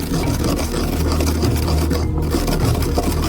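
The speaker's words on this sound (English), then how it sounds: "we put some fennel into a mortar, and also grind it so that it reveals its aroma as much as possible" Fennel seeds are ground in a mortar with a continuous, loud, close rasping and rubbing, steady for a few seconds without pause and with no voices.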